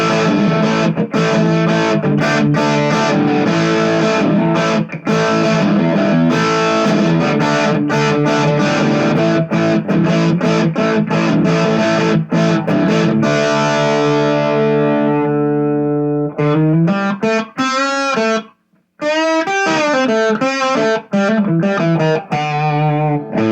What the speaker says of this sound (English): I'm using a Boss Distortion DS1, which is a pretty common distortion pedal